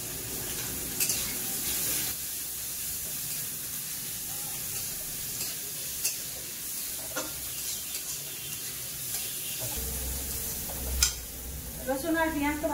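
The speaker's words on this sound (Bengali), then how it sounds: "রসুন আর পেঁয়াজ তো ভালো করে ভাজা হয়ে গেছে" Grated garlic and onion fry in hot oil, a continuous sizzle broken by scraping stirs and a few sharp clinks of the spoon against the pan.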